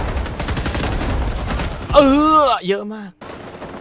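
Rapid bursts of gunfire from a Vietnam War shooter video game crackle in a dense volley, then a voice speaks over it and the shooting drops away.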